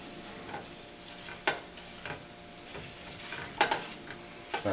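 Eggs cooking slowly in butter and olive oil in a pan, giving a steady soft sizzle with a few scattered clicks and scrapes of a utensil, with no voices.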